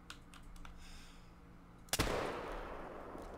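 Single rifle shot at a javelina in the hunting game theHunter Call of the Wild, a sudden loud crack partway through over a steady low ambient bed, with a short echoing tail afterward.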